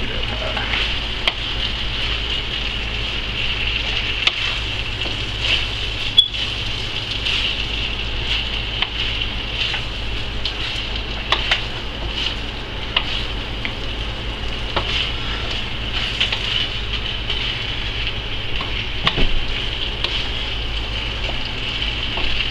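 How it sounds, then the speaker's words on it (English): Chicken stir fry, the chicken still slightly frozen, sizzles loudly and steadily in a hot pan. The frying crackles and pops continuously, close by, with no talking. "Sizzle"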